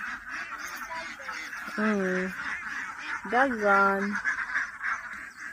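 Ducks on a duck farm let out nasal, honking quacks in two short bursts at close range, with a voice speaking over them and a constant background drone.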